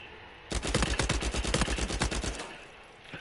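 A rapid automatic burst from an online shooter game, roughly two seconds of fast, evenly spaced loud shots, then a quieter tail.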